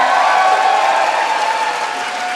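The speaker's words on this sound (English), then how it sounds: "one more round of applause for Toney" A crowd at a medieval MMA event claps and cheers in a loud, sustained roar that eases slightly toward the end, with no voice over it.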